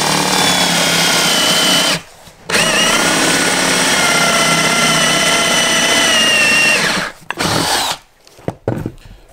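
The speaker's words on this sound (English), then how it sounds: "Now I'm just going to drill away." A power drill bores a countersink recess for coach bolts in wood, a loud sustained whine for about two seconds, a short pause, then a longer run of about five seconds before it stops in short bursts.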